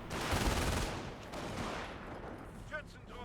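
MG42 machine-gun fire rattles in a Company of Heroes 1 match, a dense rolling burst that fades over a few seconds with a softer battle din behind it. No one speaks.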